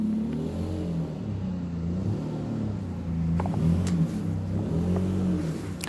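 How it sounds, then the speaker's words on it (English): A car passes outside with a steady, low engine rumble that swells slightly and fades, heard alone at moderate distance with no talking. "Again, I apologize if you hear the car."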